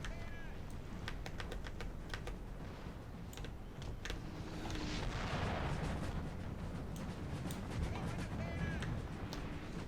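Napoleonic-era artillery from a Total War battle rumbles in a dense, continuous din, with scattered sharp cracks and booms over a steady roar of distant combat.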